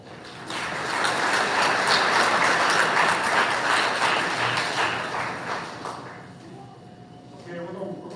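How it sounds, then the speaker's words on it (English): An audience in a school setting gives the coaches a big round of applause, loud sustained clapping that fades away toward the end as voices start to come through. "before we get going, a big round of applause"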